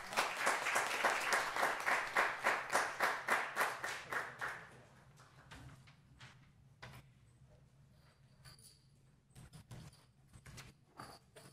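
A small group in a school governing board meeting claps for exemplary students, at first as a loud rhythmic unison beat, then breaking up into scattered, thinning claps, knocks and faint shuffling toward the end.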